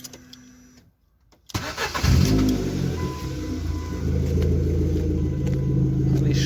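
A brief click, a moment of near silence, then a high-mileage BMW 118d diesel engine cranks and catches, settling into a loud, steady rumbling idle close by.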